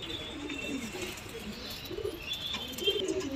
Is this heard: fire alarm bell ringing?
no